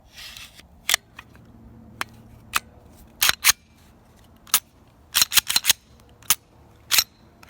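Glock pistol being reassembled by hand, sharp metallic clicks and snaps of slide and parts, several isolated and some in quick clusters, close and loud against quiet background.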